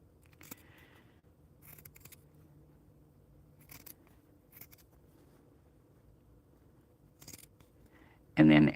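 Scissors snip through stitched sweatshirt fabric in several short, quiet cuts spread across a hushed room, ending with a sudden loud rustle.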